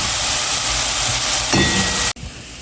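Curry with saltfish cooks in a pot, a loud, continuous sizzling hiss that cuts off abruptly near the end.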